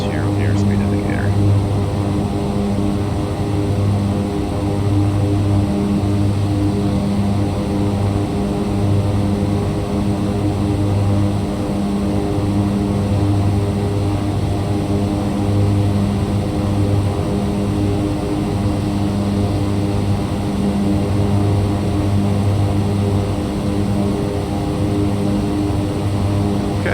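Steady propeller drone from a Beechcraft King Air 350 turboprop in X-Plane 11, a loud, continuous hum that holds evenly throughout with no clear pause.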